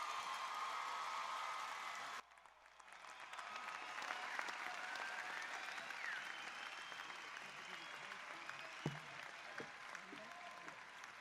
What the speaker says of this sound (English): A round of applause from for the graduates of the College of Business.